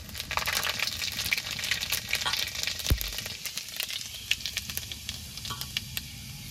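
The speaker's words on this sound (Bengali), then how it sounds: "ফোড়নে দিয়ে দেবো 2টো শুকনো লঙ্কা, কটা 5 ফোড়ন" Two dried red chillies and panch phoron spluttering in hot oil for a bata khichuri tempering, a steady close sizzle broken by crisp pops and crackles, with no voices.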